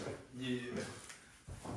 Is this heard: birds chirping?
no